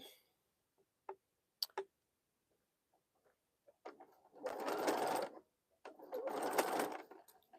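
A home sewing machine stitching during a quilting session, running in two longer bursts of dense mechanical whirring preceded by scattered clicks and ticks, close to the microphone, with an uneven, slightly off sound and no voices.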